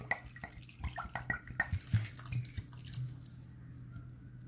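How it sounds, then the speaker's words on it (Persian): Water is poured over cut quinces and sugar in a pot for quince jam, giving close splashing and dripping sounds with faint background hum. "اینکه شکر رو ریختیم آب رو اضافه میکنیم"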